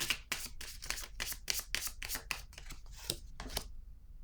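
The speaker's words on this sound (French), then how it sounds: "Je vais piger une carte ici." A deck of cards is shuffled and drawn in a rapid run of crisp, close riffling flicks and slaps, about a dozen quick strokes, heard alone.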